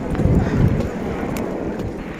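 Horses and mules walk a mountain trail on the Amarnath Yatra route from Chandanwari to Sheshnag near Pahalgam. Their hooves clop softly and irregularly under gusting wind, with faint voices nearby.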